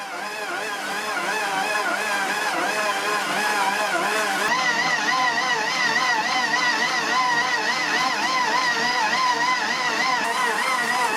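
Steady, loud motor hum and whine from an ALDI Ambiano MD 18684 800 W stand mixer working 1 kg of flour at speed 1, with a cyclic wavering tone and a light speaking voice beneath.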